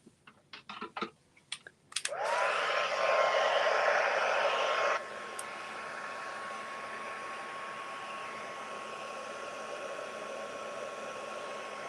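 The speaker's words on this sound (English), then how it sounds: "So let's just bring up my heat tool." Embossing heat tool switches on after a few clicks and blows a loud, steady whirring hiss close by for about three seconds, then drops to a softer hum as work continues on a Halloween card.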